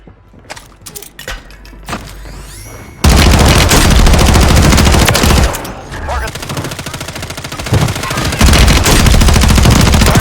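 Rapid automatic gunfire bursts loud and close in a Call of Duty: Warzone match, with dense overlapping shots and mechanical clatter following a quieter stretch of scattered single shots.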